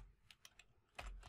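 A quick burst of keystrokes on a computer keyboard while writing Unity code, several light clicks close by, ending with a slightly heavier key press.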